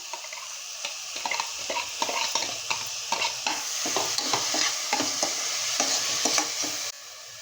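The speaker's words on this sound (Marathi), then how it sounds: "कांदा छान परत परतून घ्यायचा आहे" Chopped onion sautéing in a pan for spinach and masoor dal, a soft steady sizzle broken by repeated scraping strokes of a spoon stirring against the pan, close and fairly quiet, with no talk.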